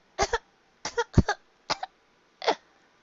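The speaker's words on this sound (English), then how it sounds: "A coughing fit shook her body." A short fit of coughs, five harsh bursts spaced unevenly over a few seconds, close and fairly loud with quiet between them.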